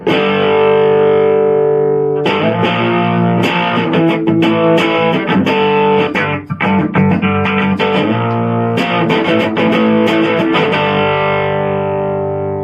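Fender Squier Affinity Starcaster electric guitar played through an amp with a driven, effected tone, loud strummed chords and picked notes ringing continuously with sharp attacks, alone with no talk.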